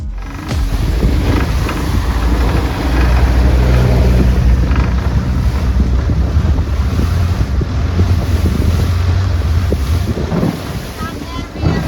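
Open-sided boat ride on a Bangkok river in choppy water during on-and-off rain, with a steady engine rumble, heavy wind buffeting the microphone and water slapping the hull, loud and continuous.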